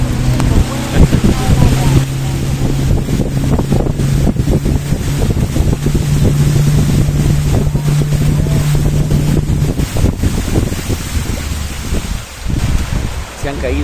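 Motorboat pushing up a river past fallen trees and branches, its engine a steady drone with wind buffeting the microphone, a voice talking over it throughout.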